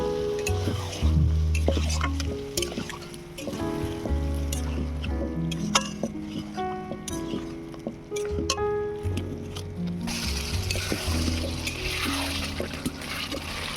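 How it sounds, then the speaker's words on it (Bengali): Chicken sautés in a pan with chili powder, garam masala and a splash of water for chicken aloo kosha, making a low, continuous sizzle with occasional stirring clinks beneath background music. "মরিচ গুঁড়ো, গরম মশলা গুঁড়ো, অল্প একটু জল দিয়ে চিকেনটা ভালো করে কষিয়ে নেব"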